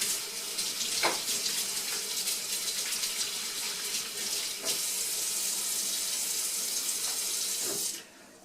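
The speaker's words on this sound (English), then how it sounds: "let me wash my hands" Tap water runs steadily into a sink while hands are washed beneath it, a continuous close hiss with a few brief splashes, stopping abruptly near the end, with no talking.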